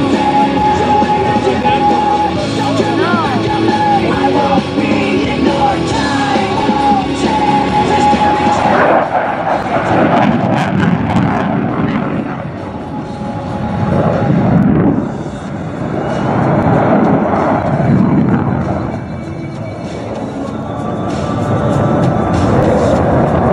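An F-18 Super Hornet jet roars past during a demonstration at an air show at Joint Base McGuire-Dix-Lakehurst. It is loud and continuous, swelling and easing in waves as it passes, with no talk.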